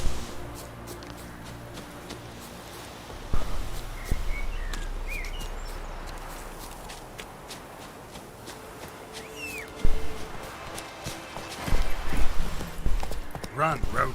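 Horse hooves clip-clopping in a video game, uneven thuds and shuffling steps rising and falling in loudness with faint birdsong in the background.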